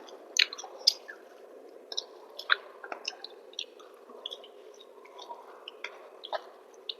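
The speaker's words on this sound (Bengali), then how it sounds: "তো চলো খাওয়া স্টার্ট করি।" A meal of milk bottle gourd shukto with lentil fritters being eaten: soft, wet chewing and squishy mouth sounds come in scattered bursts, close and fairly quiet, with no talking.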